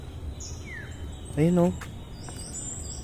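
Faint bird chirps and high whistles sound sporadically over a quiet outdoor background in the Boso-Boso highlands, and a person briefly speaks a short exclamation midway.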